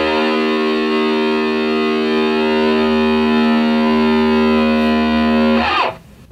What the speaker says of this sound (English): So let's give you the open E, tune your guitar to this.